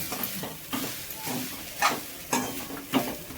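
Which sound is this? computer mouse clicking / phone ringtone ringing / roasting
roasting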